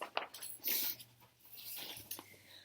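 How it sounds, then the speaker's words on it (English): Puppies whimpering and yelping in short, faint bursts, with soft panting and breathy sounds between them and a low steady hum underneath. "Look at those puppies."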